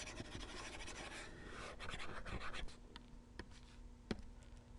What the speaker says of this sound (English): let's erase some of this stuff